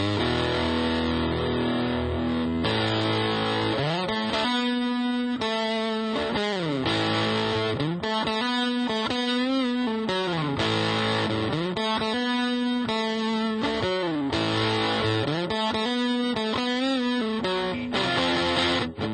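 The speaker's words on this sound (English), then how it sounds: "When you hit the MPD switch, you can hear it gets softer, but there's a lot more distortion." Heavily distorted electric guitar through a GOD BOX FX God Complex pedal with its MPD switch engaged, playing loud sustained chords and riffs continuously with a thick, saturated tone.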